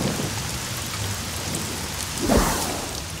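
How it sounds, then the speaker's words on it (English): Steady rain hisses over a surface throughout, with a low rumble of thunder swelling briefly partway through, close and fairly loud. "You will experience rain in approximately 6 seconds."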